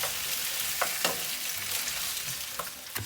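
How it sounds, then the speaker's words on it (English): Thin-sliced skin-on potatoes sauté in a pan over medium-high heat, giving a steady close sizzle with a few brief stirring scrapes and no voices. "we saute them on medium-high heat"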